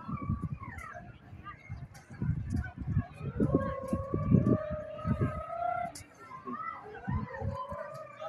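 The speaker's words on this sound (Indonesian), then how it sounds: "Ambulan." An ambulance siren wails with a rising and falling tone at a youth football match, mid-distance and partly masked by people talking and crowd noise.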